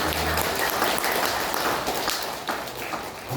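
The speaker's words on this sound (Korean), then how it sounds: "두 분이 수고하셨다는 의미에서 우리가 격려의 박수 한번 하겠습니다" A church congregation at a Sunday service claps in encouragement, a broad steady patter of many hands filling the room for several seconds at moderate loudness.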